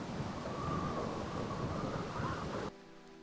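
Steady rain hiss and rumbling storm noise in the Minecraft game world, a continuous wash that drops away abruptly near the end.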